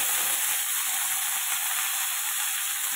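Eggplant, potato and green chili frying in a pan, a steady, fairly loud broadband sizzle and hiss that holds evenly for the whole stretch with no voices.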